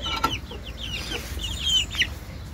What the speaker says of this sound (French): Alors les poules... Elles sont un petit peu abîmées à cause du gros coq qu'on a, Popeye et son fils.